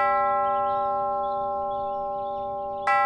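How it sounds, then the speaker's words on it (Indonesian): A school bell rings as one steady, sustained electronic tone at 2 p.m., holding evenly for about three seconds before cutting off with a short click. "Pukul 14:00, bel sekolah berbunyi."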